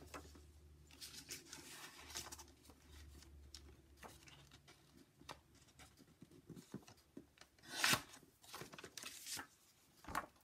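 Scissors snip through paper while a greeting card is trimmed, giving soft scattered cuts and light rustling across the stretch, with one louder crisp crunch partway through and a low steady hum underneath.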